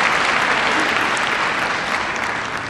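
An audience claps through a pause in a political speech, a thick steady patter of applause that fades slightly toward the end.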